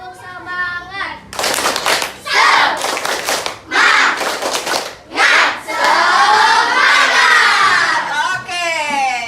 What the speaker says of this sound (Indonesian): Tepuk semangat Angel, biar semangat semuanya